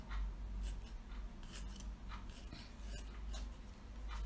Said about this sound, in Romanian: acum tăiem tifonul nostru de aici